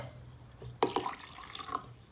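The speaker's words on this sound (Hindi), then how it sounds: "सादा पानी डालेंगे इसके अंदर।" Plain water poured into a bowl for golgappa pani, quiet at first, then a sudden splash followed by softer trickling and dripping against a faint background.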